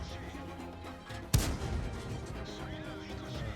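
A single heavy tank cannon shot in World of Tanks booms sharply close by, followed by a rumbling, reverberant tail over continuous engine and battle noise.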